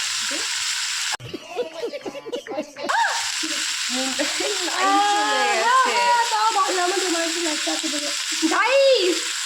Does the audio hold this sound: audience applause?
no